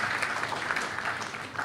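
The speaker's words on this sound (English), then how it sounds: "A big round of applause for them once again." An audience at a chess awards panel applauds gold medalists with a brief, steady patter of clapping that stays even throughout.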